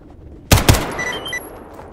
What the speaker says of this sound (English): I'm just wasting bullets.